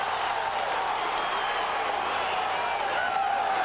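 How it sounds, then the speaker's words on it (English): Iowa fans roar and cheer in a packed arena during a college wrestling match against Iowa State, a dense, continuous crowd wash with scattered clapping. "The Iowa fans in the crowd going crazy because Nate Carr can't do anything down there"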